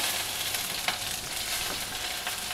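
Urad dal, a dry red chilli, hing and green chillies stir-fried in hot oil with mustard seeds, a loud, continuous close sizzle with occasional crackles and spatters.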